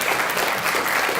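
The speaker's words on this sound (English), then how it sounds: "Real big round of applause, please, for Mirco Patarini" Applause for accordionist Mirco Patarini fills a short burst, dense and steady throughout at an even level, with no voices standing out over the clapping.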